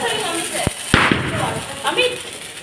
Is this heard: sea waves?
no